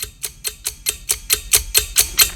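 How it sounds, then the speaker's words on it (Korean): Second hand of an alarm clock ticking, about ten crisp, evenly spaced ticks, close and clear with nothing else heard. "약간 떨어진 거리에 있는 알람 시계의 초침은 인식하지만"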